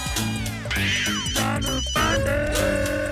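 A telephone rings continuously over a busy, music-like background, steady and fairly loud throughout, with no clear pauses.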